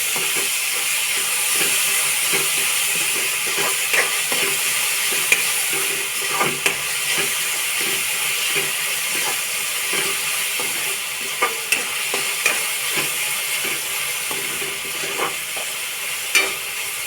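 Ginger, green chilies and garlic sauté in hot oil for cabbage parathas, a loud, continuous sizzle heard up close with occasional scrapes and clicks of stirring throughout.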